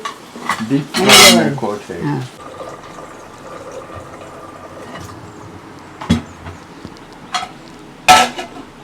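A utensil scrapes and clatters against a pan in a few short bursts, close by, separated by quieter gaps.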